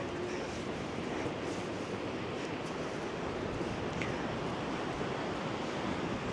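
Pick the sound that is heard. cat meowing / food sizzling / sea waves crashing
sea waves crashing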